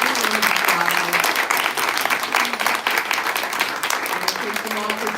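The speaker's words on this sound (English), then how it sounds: "Let's give our panelists a round of applause." An audience at a Banned Books Week panel gives a full round of applause, dense, loud and steady throughout, with a voice speaking faintly beneath the clapping.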